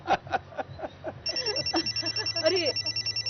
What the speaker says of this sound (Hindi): अरे नरमीन का फोन है